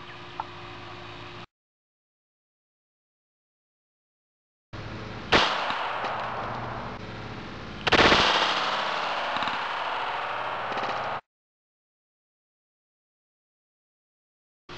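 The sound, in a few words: 9mm Luger shots from PT92 test gun, Winchester 147gr JHP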